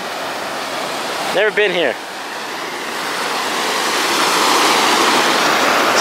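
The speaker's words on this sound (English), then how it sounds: "It's like a little waterfall" A small waterfall gives a steady, fairly loud rush of falling water that swells slightly as it continues, broken early by a short spoken phrase from someone standing close by.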